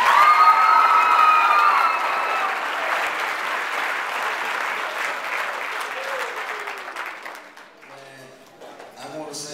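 A crowd honoring a rapper as he receives an MLK medallion claps and cheers loudly, with shouts over the applause that slowly thins out, giving way to a few voices.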